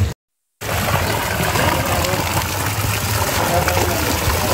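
Water runs steadily from a shower supplied by a gas heater, model H150FD, making a continuous broadband hiss with no breaks after a brief silent gap at the start.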